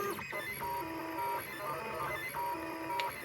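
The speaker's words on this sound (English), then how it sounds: "Here is our 3D printer printing another" A 3D printer printing a gear gives off a steady whirring hum of stepper motors, with repeated rising and falling tonal sweeps as the print head moves, close and moderately loud, with no voices.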